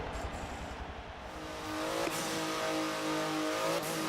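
A Porsche 935 race car in Forza Motorsport 7: a fairly faint engine that rises into a revving, accelerating whine, its pitch climbing and then shifting as it holds a steady drone.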